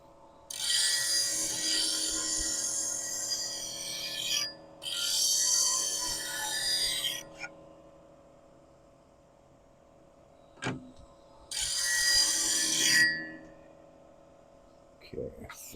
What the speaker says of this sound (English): I guess I could use my 40-degree gouge.